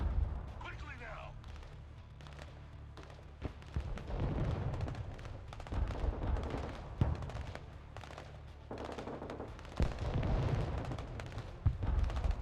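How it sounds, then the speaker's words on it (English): Artillery fire in the Broken Arrow video game, heavy booms and deep rumbling impacts landing at irregular intervals amid scattered gunfire, some blasts near and sharp, others more distant, under intermittent talk. "The artillery isn't terribly effective, however, it's kind of a problem."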